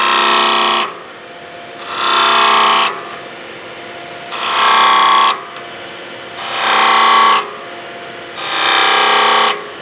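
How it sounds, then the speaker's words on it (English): Skew chisel point cutting marking grooves into spinning wood on a lathe. Five loud, close bursts of scraping hiss, each about a second long, separated by short pauses of quieter lathe hum. "I'm going to use the point of the skew here to make my marks"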